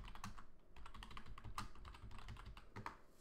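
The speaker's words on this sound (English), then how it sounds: "If I can type." Rapid, irregular typing on a computer keyboard during an online search for seismic news, with close, crisp keystrokes clattering steadily and no talking.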